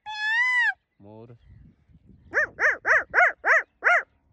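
A boy imitates a puppy's yelp, six short, loud, evenly spaced whining cries, after a brief stretch of other vocal animal imitations.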